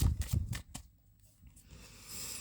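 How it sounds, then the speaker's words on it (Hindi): Tarot cards are shuffled in a few quick riffling bursts at the start, then brief softer handling before a faint hiss, with no voices. "Last shuffle."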